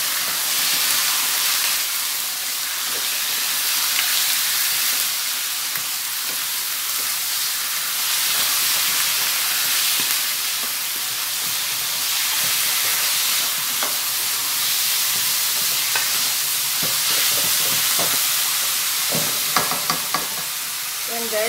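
Chicken liver sizzles and fries in a pan for adobo, a steady hiss throughout with occasional sharp pops and clicks of stirring toward the end.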